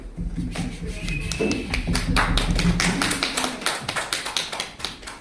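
A small comedy club audience in Reykjavik, Iceland gives a light round of applause, a string of distinct, fairly close handclaps in a loose rhythm that thins out toward the end.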